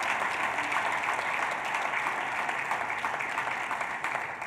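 A church congregation claps in sustained, even applause that fills the room, with faint voices underneath.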